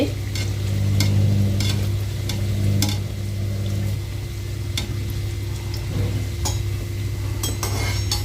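Bhatura dough frying in hot oil in a home kitchen, a soft steady sizzle and bubbling with occasional light clinks of a utensil against the pan.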